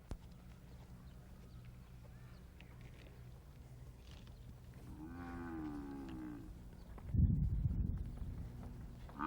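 A buffalo calf undergoing halter training lets out one drawn-out moo midway, followed by shuffling hoof sounds and movement nearby over a low background hum.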